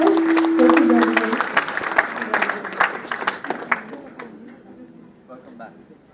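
A crowd applauds at a seminar session with a speaker, the clapping dense at first and gradually thinning and fading toward the end, with voices mixed in underneath.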